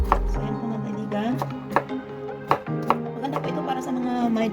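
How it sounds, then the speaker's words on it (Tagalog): Knife chopping vegetables into small pieces for a juice drink, a handful of sharp irregular cuts on a board heard under a voice talking with music. "iwain po natin na maliliit"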